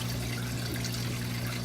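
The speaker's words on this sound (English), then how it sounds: "this is a perfect way to add water to a tank, especially with sand" Water pours slowly into a sand-bottomed aquarium tank, a constant soft rushing trickle with a low steady hum beneath, close and unbroken.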